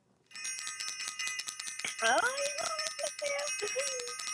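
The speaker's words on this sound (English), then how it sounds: "Let me ring the bell, Zanaya." A bell rings repeatedly with bright, sustained metallic tones close by, its ringing layered with overlapping strikes, while a voice talks over the latter part.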